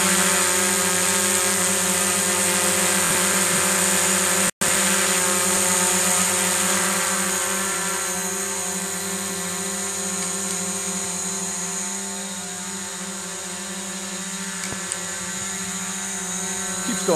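A DJI Mavic Pro drone hovers overhead with its warm rotors whirring, giving a loud, steady, high-pitched tonal buzz that holds throughout, broken once by a brief dropout.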